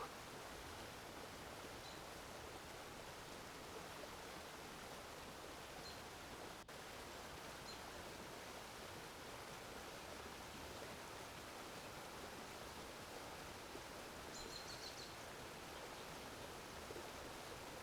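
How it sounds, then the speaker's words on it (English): Flowing water of a stream among lush trees and damp earth, a steady, even rush with no breaks, quiet and continuous throughout, with no voices. "The sound of the water is drawing out some of those built up feelings"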